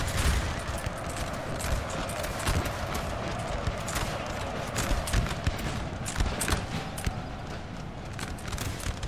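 Rolling musket volleys crackle through a Napoleon Total War battle, dense overlapping shots and clattering reports at a steady moderate level, with no one talking over them.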